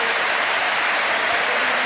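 A 38,000-strong football stadium crowd applauds in a standing ovation as a substituted player leaves the pitch at an Arsenal versus Manchester United match, a dense, loud, steady roar of clapping and cheering.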